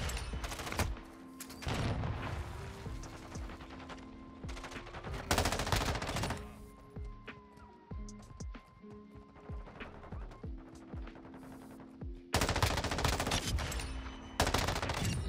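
M13B assault rifle fire in the Modern Warfare 2 video game, loud bursts of rapid automatic shots that come in several separate strings, with quieter gaps between them filled by footsteps and other game sounds.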